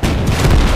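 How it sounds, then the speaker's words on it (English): A battlefield explosion in the World War II strategy game Gates of Hell, during a German campaign fight with anti-tank guns, comes as a loud, close, rumbling low boom that fills the whole brief moment with no break. "Whoa! That explosion!"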